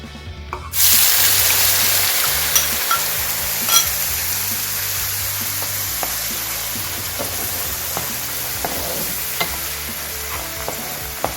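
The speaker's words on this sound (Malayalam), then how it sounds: "ഇനി നമ്മൾ തേങ്ങ അരച്ച് വെച്ചിട്ടുണ്ട്, ഇത് നമുക്ക് വഴറ്റിയെടുക്കണം." Ground coconut paste sautéing in the same oil used to fry okra, a steady close sizzle with stirring scrapes and occasional clicks of the spoon against the pan, no talking.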